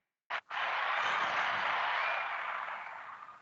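Studio audience applause opening a talk show: a short clap burst, a tiny gap, then steady dense clapping that holds for a few seconds and slowly fades out.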